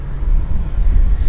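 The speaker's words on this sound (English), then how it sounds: "Well, they're going to taxi, I guess, to the back." Airliner taxiing on the north side of Vancouver airport, a steady low rumbling engine drone heard continuously from a moderate distance, with faint voices underneath.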